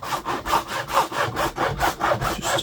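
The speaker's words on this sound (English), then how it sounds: "then we use the hacksaw" A hacksaw cuts through a plastic cable trunking lid in rhythmic push-pull strokes, about two to three per second, close up and alone.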